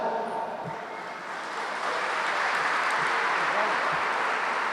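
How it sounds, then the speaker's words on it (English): An audience at a science fair awards ceremony breaks into steady applause that swells after a moment and holds as a dense wash of clapping. "If I could ask kindly that you please hold your applause until after all the names have been called"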